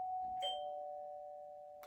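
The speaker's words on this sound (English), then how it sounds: "That was the doorbell for my parcel." A doorbell chimes for a parcel delivery indoors, a single clear two-tone ding-dong whose second tone rings out and slowly fades, heard alone without talking.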